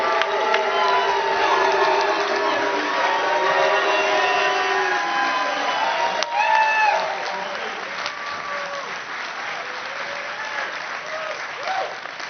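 A large crowd cheers and applauds for Seattle Seahawks legend Marcus Trufant at a live Sounders–Timbers event, with sustained clapping, whoops and shouts that swell then gradually taper, a few voices calling out within the din.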